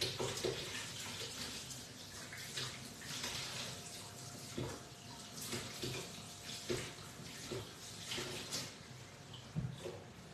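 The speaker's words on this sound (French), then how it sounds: "Laver ma spatule." A kitchen tap runs while a spatula is washed under it, a faint, steady stream of water broken by soft splashes and small clinks as the utensil is rinsed.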